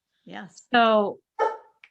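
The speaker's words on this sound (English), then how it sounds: "And the dogs are agreeing. I hear that." A dog barks and yips in short bursts nearby, a few distinct calls with a whimpering tone, mixed with a person speaking briefly.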